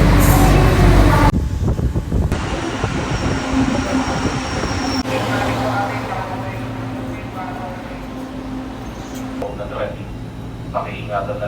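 A train runs on a rail line in Manila, a loud continuous rumble and rattle of wheels on track with steady hum throughout, and people talk beneath it.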